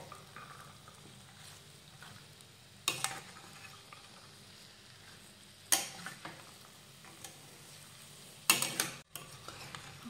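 Vegetables for a traditional Maharashtrian bhogichi bhaji get stirred in a pan, three distinct scraping bursts of spoon against metal standing out over a faint, steady low sizzle, with no talking.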